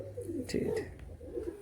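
A tournament flying pigeon gives two soft, low, throaty coos close by, and a person says a few brief words alongside.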